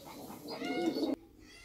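Pigeons in a dovecote give a close, soft coo that rises and fades over about a second, with quiet ambient noise around it.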